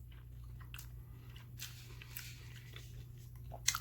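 Biting and chewing a bacon, egg, lettuce and tomato sandwich on a bun, close crunchy bites and moist chewing over a low steady hum, ending in a louder burst.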